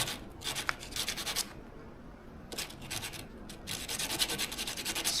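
Honda CB750 airbox parts are sanded by hand in close, repeated rubbing strokes, in bursts separated by short pauses.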